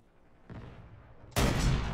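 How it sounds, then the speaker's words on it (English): Sniper rifle shot in Call of Duty MW3 Resurgence: a faint distant report followed by a single loud, close, booming crack that rings out and decays slowly, with no talking. "And I just fired. I thought I was gonna miss. And this sniper is awesome."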